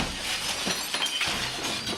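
A firefighter swings a folding chair into a barred home window, and the glass crashes and shatters in a few harsh bursts over a couple of seconds, with rattling, clinking fragments in a noisy indoor space.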